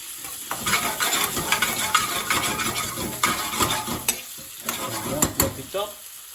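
Spices and crushed red chilli frying in a hot pan for a garlic prawn bhuna, a constant close sizzle broken by stirring scrapes and a few sharp utensil knocks against the pan, with no voices.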